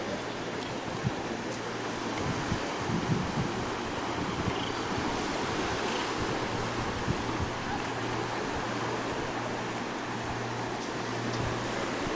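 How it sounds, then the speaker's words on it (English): Surf washes against a black lava-rock beach in Hana, Maui, a constant broad roar of waves mixed with gusty wind buffeting the microphone, steady and fairly loud throughout. "We're at another black rock beach here in the city of Hana."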